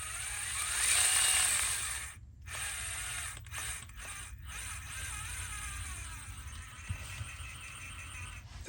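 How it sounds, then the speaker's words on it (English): An Enduro SE RC crawler's gearbox with overdrive gears skipping teeth, a faint whirring ratcheting clatter that runs steadily with small breaks and brief irregular clicks. "It sounds like it's skipping teeth."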